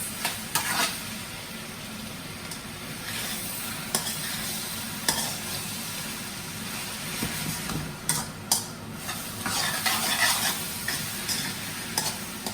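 Shrimp and vegetable fried rice being stir-fried in a wok, a continuous close sizzle broken by repeated scraping and clacking strokes of a curved wok spatula.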